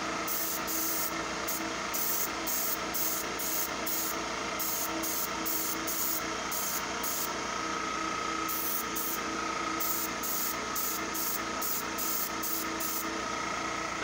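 An airbrush sprays paint onto a model interior in rapid short bursts, a hissing spray pulsing on and off against a constant background hum of the compressor.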